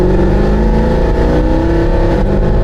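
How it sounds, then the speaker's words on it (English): A Mercedes W204 C63 AMG V8, fitted with an X-pipe exhaust, revs loudly and close up, a deep, throaty engine roar rising and falling over a few seconds without speech. "Now it sounds like an actual AMG."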